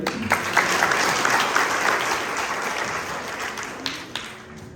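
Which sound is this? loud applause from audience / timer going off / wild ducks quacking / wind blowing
loud applause from audience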